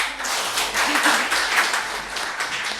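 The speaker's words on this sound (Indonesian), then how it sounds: "Tepuk tangan dulu" A crowd applauding steadily at a law faculty seminar, dense clapping that holds at an even level throughout, fairly close and loud.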